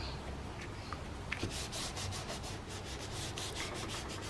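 Paper for a twine-bound mini album is burnished with a series of quick, quiet rubbing strokes in a close, soft, scratchy rhythm.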